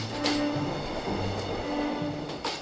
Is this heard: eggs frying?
no